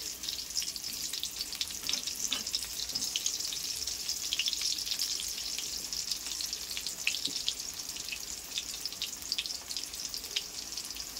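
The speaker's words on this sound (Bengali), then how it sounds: "সেই তেলের মধ্যে আলুগুলোকে ভাজতে হবে।" Potatoes fry in hot oil with turmeric, giving a soft, steady sizzle with fine crackling throughout, fairly quiet and with no voices.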